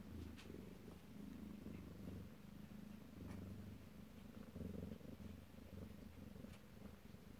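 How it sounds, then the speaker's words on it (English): A kitten purrs close up, a soft continuous rumbling that swells and eases with each breath, heard alone and quite faint. "Started to purr too."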